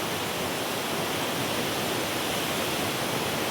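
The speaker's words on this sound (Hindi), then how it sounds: "मैं ज़ोर से इसलिए बोल रहा हूँ क्योंकि यहाँ से जो स्ट्रीम का शोर बहुत है" A rushing mountain stream in a Kashmir village fills the clip with a loud, steady broadband roar of churning, tumbling water, close to the microphone and continuous throughout, with no voices.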